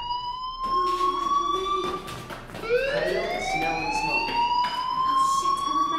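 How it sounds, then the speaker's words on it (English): A fire alarm in Life is Strange wails as a steady electronic siren tone that rises in pitch partway through, loud and continuous. "Hey, do you hear that fire alarm?"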